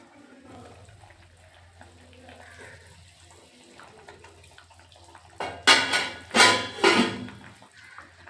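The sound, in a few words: pouring broth into pot of potatoes and covering it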